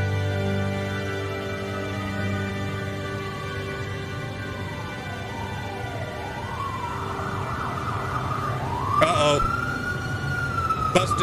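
A police siren rises and wails over loud music, sweeping up and down through the second half, with a sharper burst near the end.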